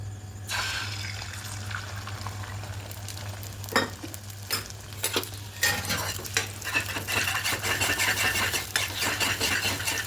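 An egg cracked into a preheated wok sizzles and is stirred into a scramble, with steady frying hiss, scraping spatula strokes and a few sharp clacks, close and moderately loud with no talking.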